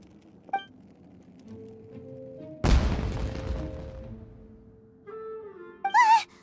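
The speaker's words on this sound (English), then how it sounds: "Was that an explosion? It sounded like fireworks." A burst of video game fireworks: one sudden loud boom followed by a crackling, fading rumble, surrounded by soft background game music and chiming effects.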